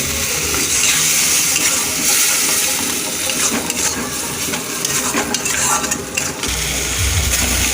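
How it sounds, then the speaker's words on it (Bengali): A spice paste for dim mocha curry, with egg and banana flower, is stir-fried in a pan after spice water is added. A loud, continuous sizzle and watery bubbling runs throughout, with clattering stirring strokes close by. "এবার মশলার জলটা দিয়ে আমি মশলাটা কষাবো।"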